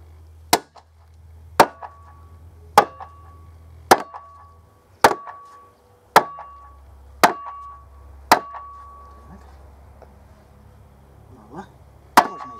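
Sharp, loud hammer blows strike a wooden handle being driven into a shovel head, about ten evenly spaced knocks with ringing metallic tails, then a pause before one last hit.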